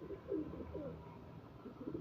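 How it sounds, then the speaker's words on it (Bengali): A female pigeon of a fancy breed coos softly and fairly close in short repeated rolling phrases, with no talk. "বেহতরিন পায়রা, এটা মাদি দেখেন"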